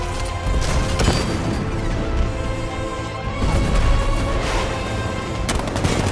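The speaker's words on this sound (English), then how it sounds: "60 millimeter cannon operational." A tank's 60 millimeter cannon fires in Batman: Arkham Knight, dense sustained gunfire blasts and crashing impacts filling the whole stretch with loud, continuous rumbling.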